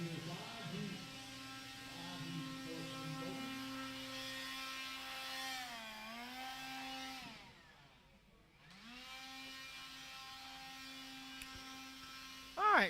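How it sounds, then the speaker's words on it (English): A struggling electric blower at an RC race track drones with a steady, loud harmonic hum that sags in pitch, drops out briefly, then spins back up, ending with a short thump. "As you can hear that blower, that thing is on life support."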